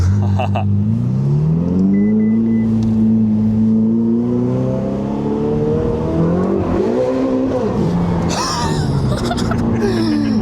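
A Ferrari 488 sports car engine revs hard and climbs through the gears, loud and close, its deep roar rising and falling under background chatter.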